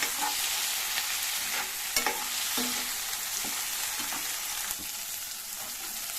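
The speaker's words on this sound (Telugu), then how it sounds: "కొద్దిగా నూనెలోనే ఫ్రై చేసుకోవాలి" Tomatoes fry in a little oil with a steady, close hiss, while a utensil scrapes and clacks against the pan every second or so as they are stirred, with no talking.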